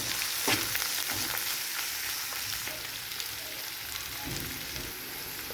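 Onions and washed moong dal frying in hot oil, a steady close sizzle and crackle with occasional stirring scrapes, no voices.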